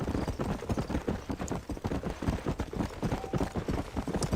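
Horse hooves clip-clopping in Red Dead Redemption, a steady rapid rhythm of hoofbeats from a ridden horse on a trail, loud and close throughout.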